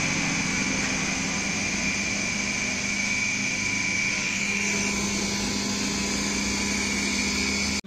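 A freshly rewound electric motor runs steadily after repair, giving a constant high whine with a low hum beneath it, close and unchanging for the whole stretch.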